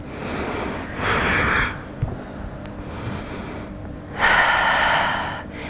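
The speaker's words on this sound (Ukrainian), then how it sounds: "Робимо глибокий вдих і видих." Deep breaths in and out during a yoga class, two loud airy exhalations close to the microphone separated by quieter breathing, with no talk.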